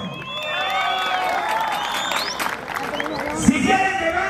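Audience applause and cheering for a dancing couple at a dance championship, crowd noise and whoops under an announcer's voice, with one sharp louder burst near the end.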